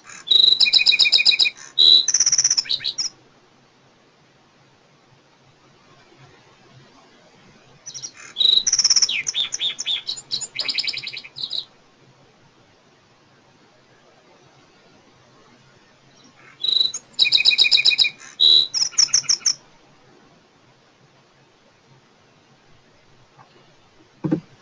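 Three separate bursts of high, buzzy bird song with sharp zapping, laser-like notes, spaced several seconds apart against near silence.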